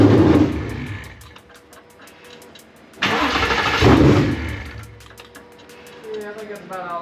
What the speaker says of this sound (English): Engine sounds great. No crazy noises.